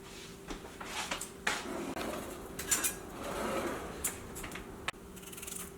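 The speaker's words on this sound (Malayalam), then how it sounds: "അപ്പോൾ ഈ ഉരുളക്കിഴങ്ങ് ഒന്ന് കട്ട് ചെയ്ത് വെക്കട്ടെ" Knife cutting potatoes on a kitchen board, faint scattered taps and knocks at an uneven pace over a low background hum.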